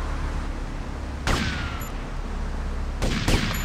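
Gunfire in the video game Grand Theft Auto Vice City: a single sharp shot rings out, then a quick pair of shots follows, all loud over a steady, noisy game background.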